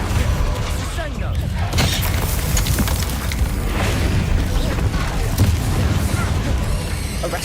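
Booming magical blasts from the Bombarda explosion spell in the wizarding game Hogwarts Legacy, several heavy bursts and crashes amid continuous combat noise, loud and close, with voices talking over the fight.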